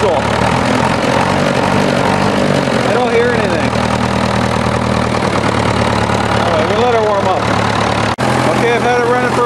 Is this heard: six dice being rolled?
no